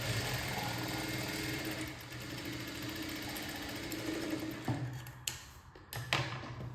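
A sewing machine stitches the lining and main fabric of a baby frock, giving a steady, close mechanical whir that runs continuously and then breaks into a few short pauses and restarts near the end.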